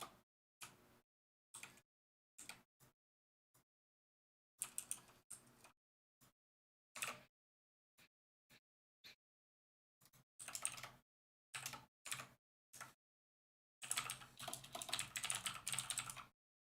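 Fingers tap on a computer keyboard in short, sparse clicks and quick bursts separated by silent gaps, growing into a denser run of rapid keystrokes near the end, close but quiet.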